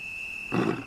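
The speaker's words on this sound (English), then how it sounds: "That thundering roar can travel up to 5 miles, announcing to his rivals that this territory is taken." A male lion's roar rumbles in briefly, a short loud low burst rising over a steady high insect-like whine in the wild.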